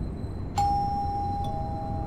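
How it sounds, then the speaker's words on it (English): A doorbell rings at an apartment door in the Fahrenheit Indigo Prophecy game: a sudden clear electronic ding followed by a second softer tone, each ringing on steadily in a quiet room with no speech. "Ring the bell again."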